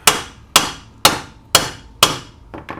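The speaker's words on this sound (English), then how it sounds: "tap with the hammer" Five sharp metallic hammer taps on a 2004 MINI Cooper S ball joint at a steady, even rhythm, each ringing briefly before the next, followed by a couple of softer knocks.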